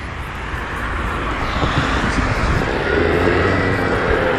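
Stark Varg electric dirt bike being ridden, a steady loud whirring motor whine mixed with broad wind and road rush, continuous throughout.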